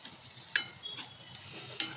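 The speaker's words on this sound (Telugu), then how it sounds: "దీన్ని ఒక 2 నిమిషాల పాటు ఫ్రై చేసుకుందాం" Wheat frying in ghee in a pan, a steady soft sizzle with occasional scrape-like stirring clicks, close and moderately quiet with nobody talking.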